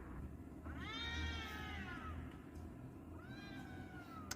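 Two cats yowling mating calls in long, wavering, drawn-out cries, one after another, fairly close against a low background hum.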